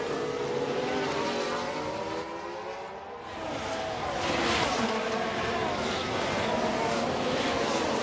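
Formula 1 race car engines from the video game F1 Manager 23 drone and whine continuously at Sakhir, with overlapping pitch sweeps as cars pass. A commentator talks over them.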